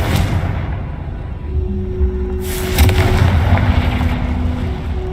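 Spell blasts from the Confringo and Bombarda curses in the Hogwarts Legacy video game: heavy booming impacts with a low rumble, one sharp loud burst midway followed by sustained crackling roar and ringing tones.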